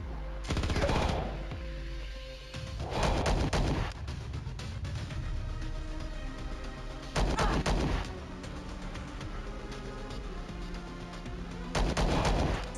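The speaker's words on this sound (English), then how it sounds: "look, it's a burst fire" Burst-fire weapon shots in the sci-fi tactics game Star Traders: Frontiers, four loud broadband bursts spaced a few seconds apart over a steady musical background.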